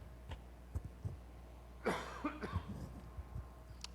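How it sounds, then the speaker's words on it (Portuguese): A man coughs once, roughly and with some force, during a sermon at a church Sunday school, with quieter throat noises and small clicks around it in a quiet room. "Eu pedi licença para você que eu preciso tossir."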